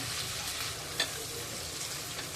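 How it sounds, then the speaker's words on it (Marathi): Sliced onions, green chillies, ginger and garlic sautéing in a pan over medium heat, a steady close sizzle with one brief stir or scrape partway through, no talking. "आलं लसूण कांदा व्यवस्थित परतून घ्यायचा आहे"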